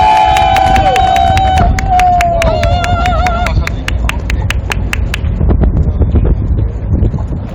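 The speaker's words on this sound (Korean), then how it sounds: "큰 박수 부탁드립니다." An outdoor political rally audience claps and cheers to welcome a speaker: dense, loud applause with sharp repeated claps, a whistling tone sliding down over the first few seconds, and steady crowd noise throughout.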